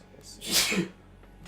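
A single sharp sneeze bursts out close by amid a casual tabletop game session, rising quickly and fading within a second, with people talking briefly around it.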